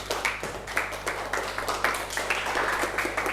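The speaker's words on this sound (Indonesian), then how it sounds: "Tepuk tangan untuk mereka dulu." A high school class gives a round of applause, many hands clapping in a brisk, fairly steady patter over a constant low electrical hum in the room.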